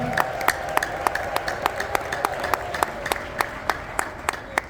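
Church congregation clapping together in a steady, regular rhythm, sharp unison claps repeating about four times a second over a soft crowd murmur.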